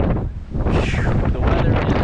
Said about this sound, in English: The wind's blowing 30 knots.